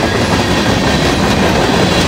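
Locomotives and railroad cars pass close by in a loud, continuous rumble with a steady rolling clatter of wheels on track. No voices are heard.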